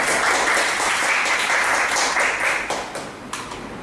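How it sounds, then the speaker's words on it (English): A room full of people at a Toastmasters club meeting gives a sustained round of applause, loud and dense at first, then gradually thinning and fading toward the end. "So give yourself a big round of applause."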